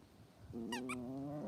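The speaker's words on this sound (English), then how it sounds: "Hello, the black cat, Chat Noir." A black cat gives a single drawn-out, wavering meow, fairly close and clear against a quiet indoor room with no talking.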